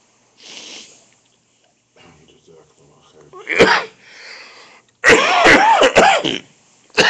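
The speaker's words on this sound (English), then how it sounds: "Sorry for the disturbance with my coughing." A man coughs and clears his throat during an Islamic lecture, with short harsh bursts separated by quiet gaps and a loud cluster of hacking coughs near the end, close to the microphone.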